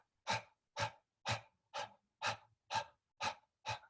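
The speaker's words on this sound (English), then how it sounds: "Imagine that you're a little puppy dog on a hot summer day. You're sitting on a sidewalk. You're panting." Quick panting through the mouth like a puppy on a hot day, done as a breathing exercise: eight short, evenly spaced breaths in steady rhythm, close and alone.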